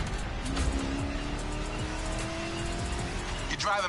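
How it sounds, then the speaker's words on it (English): A 1969 Mustang Boss 429 driven in a video game, its engine a loud, steady roar with tire noise throughout, and a short squeal near the end while someone talks over it. "Driving my #1 car, the star of my collection, the 1969 Mustang Boss 429."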